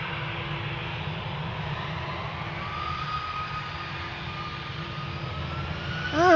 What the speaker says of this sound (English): That is definitely an airplane which will get loud.